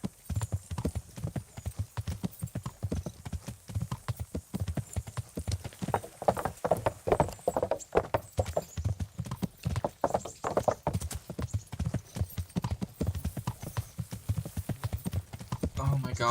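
Horse hooves clip-clop steadily on a hard surface in a video game, a rhythmic walking beat with a faint whinny and some talk over it.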